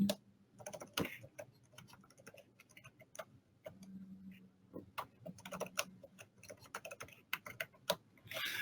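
Keys clatter in irregular bursts as a username and password are typed on a computer keyboard, with a short pause mid-clip and a faint low hum underneath.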